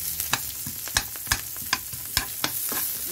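Julienned onion sizzles steadily in hot oil in a frying pan, with sharp utensil clacks roughly every half second as it is stirred, close and fairly loud.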